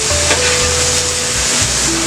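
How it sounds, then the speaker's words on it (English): White wine poured into a lobster risotto in a hot pan, a loud, close, continuous sizzle and hiss with faint stirring underneath, no voices. "Now we're going to go in with white wine."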